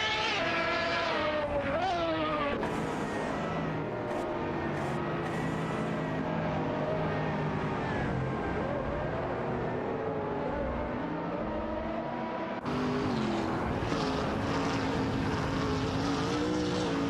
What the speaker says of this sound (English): The competition is getting intense as both cars push their limits on the track.